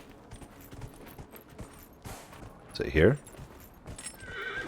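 A horse in Dragon Age Inquisition whinnies once, a loud nearby neigh rising above soft clip-clopping hooves, while a person speaks briefly just before.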